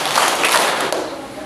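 Schoolchildren in an elementary school classroom clapping together during an anti-bullying session, a dense burst of hand claps that fills the clip and fades slightly toward the end.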